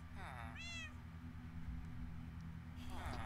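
A Minecraft cat meows near villagers, several short rising-and-falling meows at the start and again at the end, over a steady low game background hum.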